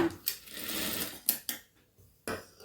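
A sewing machine runs in short bursts as it stitches fabric for a dotted and cross-patterned border strip. The bursts are close, loud and rhythmic, with brief pauses between runs and no talking.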